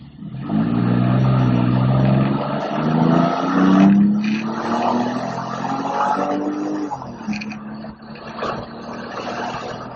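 A supercar engine revs and climbs through the gears, loud and close, with a brief drop in pitch at a shift before pulling hard again.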